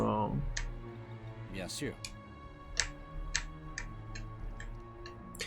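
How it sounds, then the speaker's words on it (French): A computer keyboard clicks in a series of crisp, evenly spaced taps during a Warcraft 3 Reforged session, with a voice speaking briefly in French and a low musical drone underneath. "Ça va, on n'entend pas trop mon clavier?"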